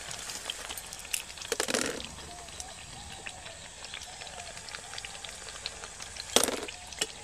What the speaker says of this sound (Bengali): এই পিঠেটা ভাজবার সময় কিন্তু মিডিয়াম আঁচে ভাজতে হবে